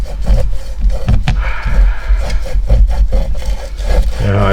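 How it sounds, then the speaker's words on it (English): Rough, rasping strokes of sanding on soft foam of a 12-inch subwoofer speaker, repeated in quick back-and-forth bursts, close and fairly loud. "Kind of rough sanding here."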